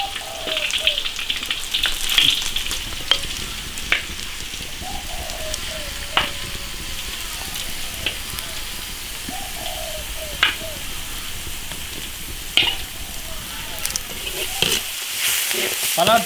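Beef leg browns on all sides in an iron wok with a steady, crackling sizzle, while birds chirp and coo faintly in the background.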